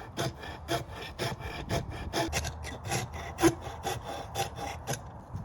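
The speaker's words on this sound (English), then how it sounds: "I'm going to use my Shinto rasp here to take down the thickness of this a little bit." A Shinto rasp thins a wooden axe handle in quick, rhythmic strokes, about a dozen close, scratchy rasping passes with brief gaps between them.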